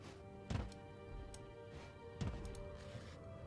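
Barrels are opened in Divinity Original Sin with two distinct wooden thunks, followed by faint clicks, over a soft game music bed.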